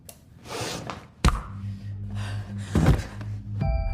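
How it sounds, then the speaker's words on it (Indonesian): A single hard slap lands sharply at close range, followed by a low droning hum and brief breathy vocal sounds. "Tempelengan yang cukup keras membuat Ella pingsan sejenak"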